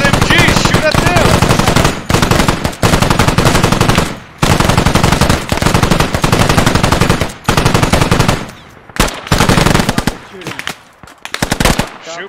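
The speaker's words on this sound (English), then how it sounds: "There's fuckers over there with MGs! Shoot at them!" Machine gun fire in the tactical shooter Squad, with Russian and British forces fighting: loud, close, sustained automatic bursts rattle almost continuously, broken by brief pauses, with sparser single shots toward the end.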